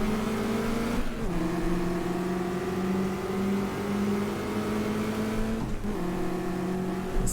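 Ford Mustang race car engine holding a loud, steady drone close by, with pitch dips near one and six seconds as it shifts or lifts, then climbing again under acceleration.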